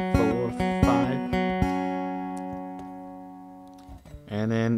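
An electric guitar repeats a single note in a quick cluster of picked attacks, then lets it ring in a long decaying sustain, with a brief burst of sound at the end.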